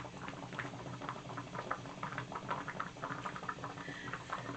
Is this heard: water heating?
yes